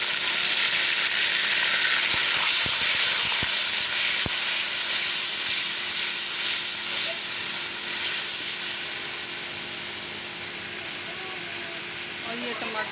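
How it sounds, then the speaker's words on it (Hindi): Onion paste hits a pan of hot oil with fried garlic and ginger, setting off a loud, dense sizzle that holds steady throughout and eases slightly toward the end. "ये प्याज का पेस्ट शामिल कर रही हूँ।"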